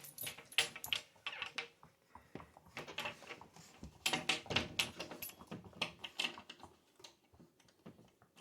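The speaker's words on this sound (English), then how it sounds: "all the doggies" Dogs shuffle about inside a farmhouse, giving faint, scattered clicks, taps and rustles of movement in a quiet room.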